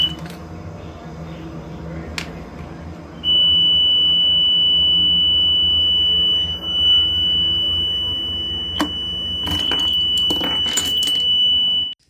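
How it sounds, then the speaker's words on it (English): A boat engine's warning alarm sounds on the second attempt to start it, a steady, loud, continuous electronic beep that holds for several seconds alongside a red warning light, with engine and background noise underneath and a few sharp clicks near the end. "Red light, long beep."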